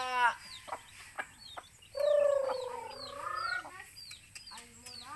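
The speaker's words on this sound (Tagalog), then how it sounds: "pakain muna tayo ng manok" Chickens cluck and squawk close by in short bursts, with a longer drawn-out call in the middle, no voices.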